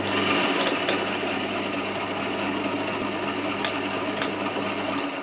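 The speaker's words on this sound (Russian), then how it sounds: "Далее насадку у миксера меняю на лопатку." An electric mixer fitted with a paddle attachment runs steadily through carrot cake batter, giving a continuous motor whir with a few faint clicks, fairly close and alone.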